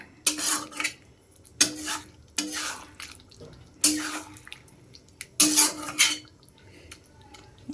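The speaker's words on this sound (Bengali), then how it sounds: "এবার ভালো করে এটাও মিশিয়ে নেব" A spoon stirs vegetarian Bengali cauliflower curry in a pan, producing loud, close bursts of wet scraping and clattering in repeated strokes separated by short pauses.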